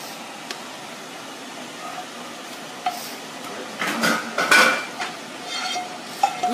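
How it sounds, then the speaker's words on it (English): Salmon and sauce going into a pot of drained pasta, with a burst of clinking metal utensils and scraping around the middle, then lighter taps and stirring against a quiet kitchen background; no one talks. "we can add the salmon and the sauce to the pasta"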